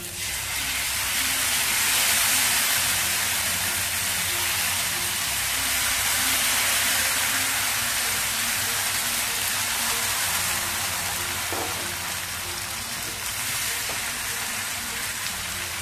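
Varicha (barnyard millet) dosa batter sizzling steadily on a hot oiled tawa, a continuous dense hiss with a few faint crackles throughout, close and fairly loud, no voices.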